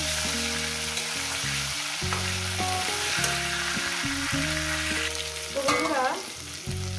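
Cauliflower sizzles as it fries in a pan, with a steady, close crackle throughout. A voice speaks briefly over the frying and some background music.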